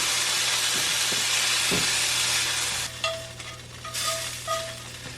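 Mushrooms and tomatoes grill in a hot pan with a continuous close sizzle and stirring. The sizzle eases partway through as faint intermittent tonal chirps appear in the background.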